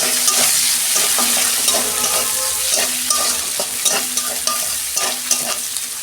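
Sliced onion with black cumin seeds fries in hot oil in a pan, sizzling steadily up close while a utensil stirs with repeated light scrapes and knocks; no one speaks.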